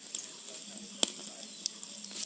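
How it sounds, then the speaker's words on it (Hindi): A fire being lit to grill fish outdoors gives a steady soft hiss and crackle broken by a few sharp pops, fairly faint and close. "अभी मैं इसको ग्रिल करूंगी, तो इसलिए आग जला रही हूँ"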